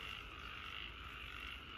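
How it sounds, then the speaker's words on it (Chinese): A toad croaks at night outside an office building, a faint, steady chorus of calls under a continuous hiss with no voices. "那是蛤蟆叫的"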